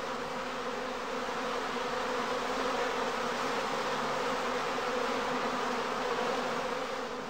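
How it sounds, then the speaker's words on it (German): Honeybees swarming around a straw skep hive at a heath apiary make a dense, continuous buzzing that holds steady and fills the space at close range, with no voices. "Nun laufen die Bienen unruhig zwischen den Wabengassen hin und her"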